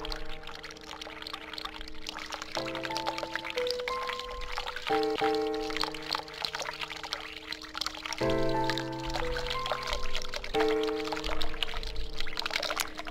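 A steady stream of hot water pours in The Cat Lady game, a constant close rushing wash layered under sustained droning game music throughout, with no speech.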